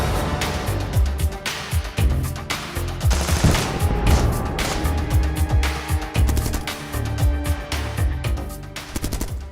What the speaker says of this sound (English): They quickly reach the firing line and start firing machine guns at the Ukrainians.